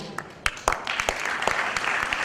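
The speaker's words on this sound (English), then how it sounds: "A huge round of applause." An audience at the Global Awards ceremony breaks into applause for a lifetime achievement honoree, a few sharp early claps quickly building into dense, sustained clapping.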